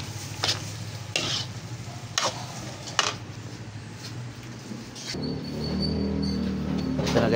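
Pork sisig sizzles steadily in a hot pan, with a spatula scraping and stirring in several sharp strokes early on, then a denser, louder sizzle settling in near the end, no talking.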